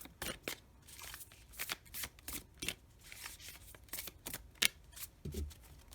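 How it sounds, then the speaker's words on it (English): A tarot deck is shuffled by hand, with a run of crisp papery riffles and flicks in irregular bursts, close and fairly quiet, followed by a soft thump near the end. "Let me shuffle this one more time."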